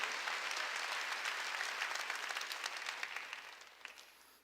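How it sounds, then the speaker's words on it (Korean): A church congregation applauding during a sermon, a wash of many hands clapping that holds steady and then thins out and fades toward the end, fairly quiet and with no talk over it. "박수야."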